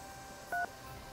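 A single short touch-tone telephone dial beep in the Nancy Drew game Ghost Dogs of Moon Lake, one clean dual-tone chirp standing alone against a faint hiss.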